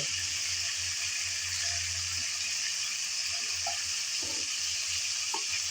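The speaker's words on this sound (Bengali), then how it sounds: "উল্টিয়ে পাল্টিয়ে চিংড়ি ভেজে নিলাম" Shrimp fry in oil with a soft, continuous sizzle that stays fairly quiet and even, heard up close with a few faint clinks and stirs and no talking.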